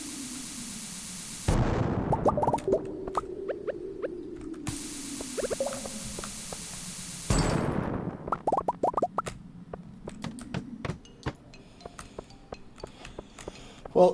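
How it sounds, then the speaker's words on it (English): Bombs go off in the farming game Stardew Valley: two loud bursts of noisy blast, each lasting a few seconds with a low rumbling tail, scattered with small clinking debris sounds and no talking. "definitely bombing my way out of here"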